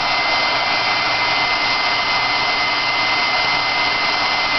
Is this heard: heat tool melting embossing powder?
yes